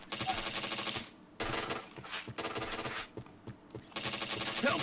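Rapid bursts of gunfire from a shooting video game, with headshot hits among the shots, come in loud dense volleys separated by brief lulls, close and continuous across the stretch.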